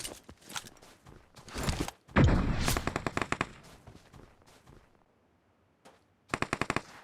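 Gunfire in the mobile battle royale game PUBG Mobile, with rapid automatic bursts of crisp shots, a loud close volley in the middle, a quieter gap and then another short burst at the end.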